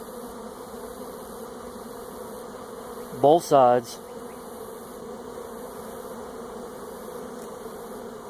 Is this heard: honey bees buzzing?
yes